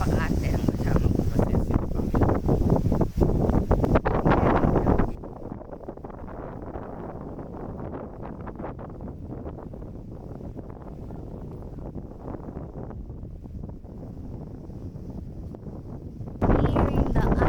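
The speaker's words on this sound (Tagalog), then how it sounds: "Lakas ng hangin." Strong sea wind buffets the microphone in loud gusts with a rushing roar on a boat nearing Takeshima Island, Japan, easing into a lower steady rumble before surging again.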